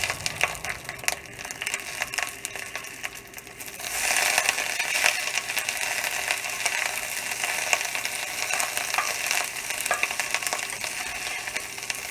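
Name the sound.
cabbage frying in a pan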